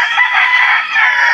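A backyard fighting rooster crows up close, one loud, sustained, strained call held steadily from start to finish with no other sounds.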